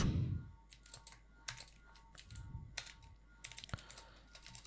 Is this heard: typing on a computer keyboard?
yes